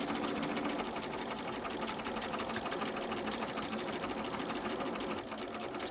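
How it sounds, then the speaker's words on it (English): A sewing machine stitching a quilt block, giving a fast, steady mechanical whir with a rapid needle rhythm, close and continuous before a brief slowdown near the end. "I'm going to set my machine back, and I'm just going to sew."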